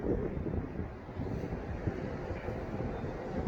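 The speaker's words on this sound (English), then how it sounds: "It's windy." Steady wind roaring across the microphone outside a condominium in Ocean City, Maryland, a continuous low rumble and buffeting with no voices, constant in loudness throughout.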